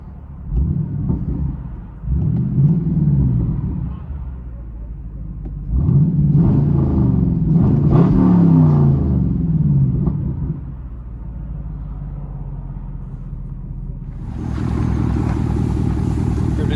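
A Chevy Camaro SS 6.2L V8 exhaust heard from inside the car: a deep, loud idling rumble with a few revving swells, then settling into a steady lower burble.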